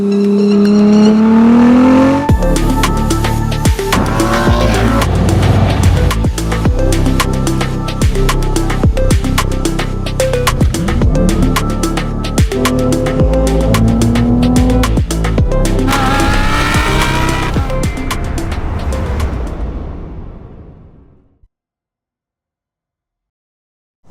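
An Alpina D3S diesel car drives hard, its engine note rising and falling through gear changes with brief tire squeals, loud and close for about twenty seconds before cutting off abruptly.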